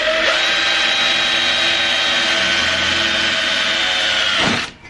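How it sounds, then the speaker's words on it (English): Power drill boring rivet holes through a heat shield for a cold air intake box, a loud steady whine held for several seconds, then stopping. "Just want to take a drill bit that's the same size as this end of the rivet, the fat end of the rivet, and drill some holes."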